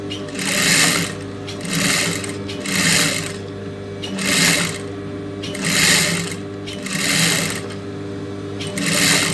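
Sewing machine stitching lace along the edge of a blouse, a loud close whir rising and falling in repeated bursts about every second and a half.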